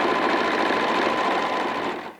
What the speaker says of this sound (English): So let me get started sewing that.